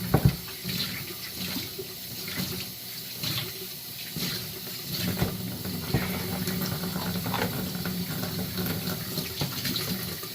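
Running tap water rinses aquarium pump parts during reef tank maintenance, a steady splashing stream with brief knocks and clatter of plastic pieces handled under the flow, close and continuous throughout.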